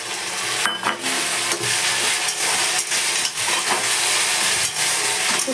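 Ginger garlic paste added to onions already frying in a pan, a steady loud sizzle with a spoon scraping and stirring through it in irregular strokes, no voices.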